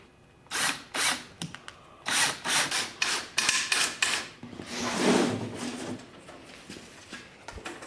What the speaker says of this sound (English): I like to put a little screw in here just to kind of hold it in place till I flip it around.